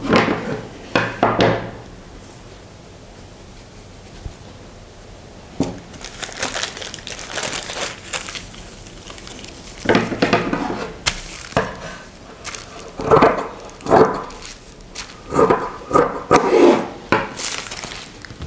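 Fabric being cut into a small piece for a pocket facing, with intermittent crisp snips and rustling of folded cloth, louder bursts near the start and again toward the end, separated by quieter handling noise.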